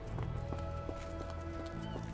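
A horse in Sherlock Holmes The Awakened trots along with rhythmic, moderately quiet hoof clip-clops, steady throughout the moment over a low background hum.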